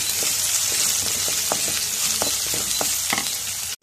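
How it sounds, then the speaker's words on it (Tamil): Onion, green chili and curry leaves sauté in a pan with a steady close sizzle, broken by repeated scrapes and clicks of a stirring spoon, with no talk. "எல்லாம் நல்லா வதக்கிடுங்க"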